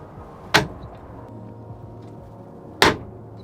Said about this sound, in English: And then I can latch everything into place.